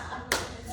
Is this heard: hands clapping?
yes